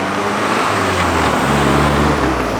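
A worn Mazda Miata cruising on a freeway, a loud continuous engine drone and road roar with a steady tone and no pauses.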